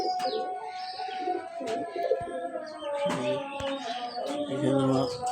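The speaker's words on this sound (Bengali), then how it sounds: "এখানে আমার কিছু কবুতর ডিমে আছে।" Domestic pigeons kept at a home, some sitting on eggs, coo in soft repeated low calls, with a few chirps and light rustling around them, close by.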